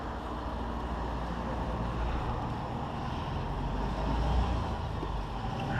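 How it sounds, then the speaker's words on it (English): A noisy truck drives past outdoors: a low, steady rumble that holds level throughout and swells slightly toward the end, with no voices. "We'll wait for this really noisy truck to go by a minute"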